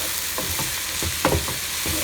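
Spinach cooking uncovered in a pan for chicken keema, a soft steady sizzle broken by a few light stirring scrapes and one sharper knock of the utensil, with no talking.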